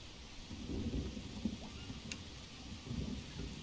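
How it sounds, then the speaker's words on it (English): Thunder rumbles with steady rainfall in the survival video game Green Hell, a low continuous roll of rain plus a few heavier rumbles and a brief sharp crack, fairly quiet and with no talking. "It's starting to rain."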